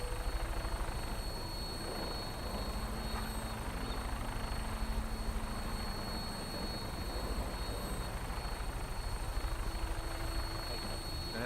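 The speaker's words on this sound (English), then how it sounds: "You like when I get in a vertibird?" Vertibird rotor noise in the Fallout 4 video game, a continuous even whirring drone with faint rhythmic chop, steady and unchanging throughout.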